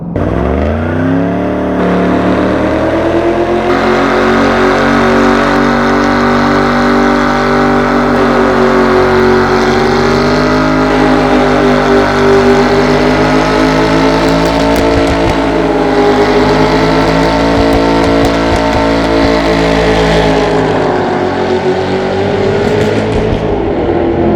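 A car does a burnout with the traction control switched off, its engine roaring loud and sustained at high revs with wavering pitch and constant tire noise, heard alone without voices.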